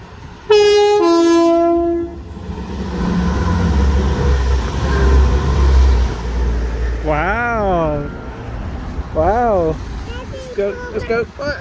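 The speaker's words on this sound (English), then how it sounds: "It blew the horn for you." A passing train sounds its horn in two loud, sustained blasts near the start, then rumbles steadily past close by; a child's and adult's voices rise in excited, sing-song talk over the rolling noise.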